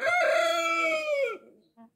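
Rooster of the Wyandotte breed, silver-pencilled colouring, crowing once in a long drawn-out call, fairly close, followed by a brief soft cluck.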